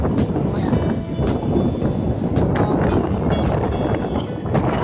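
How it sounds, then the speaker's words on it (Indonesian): Steady wind blowing at Lampuuk beach in Aceh Besar, a constant loud rush buffeting the microphone throughout, with no voices. "Ya ada angin di sini."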